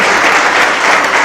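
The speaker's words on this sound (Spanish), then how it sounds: "vamos a recibir con un fuerte aplauso a nuestra apóstol, la pastora principal" A church congregation applauds loudly, a dense continuous wash of many hands clapping close around.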